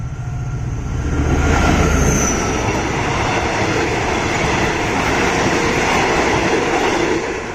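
Local train 418 passes at speed, a loud, steady rumble of wheels and carriages that fills the whole stretch without letup.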